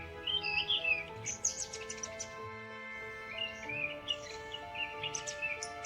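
Bright bird chirps come in short bursts of tweets repeated across the stretch, over a backdrop of sustained musical tones in an animated story.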